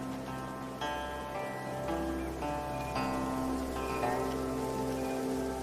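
Steady, even rain patters throughout in the video game Infinity Nikki, soft and continuous under a gentle layer of ambient music tones.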